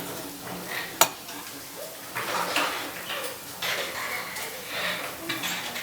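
Grated carrot and coconut are stirred in a pan, making soft, close scraping and shuffling sounds. One sharp clank comes early, then intermittent scrapes follow at a moderate level.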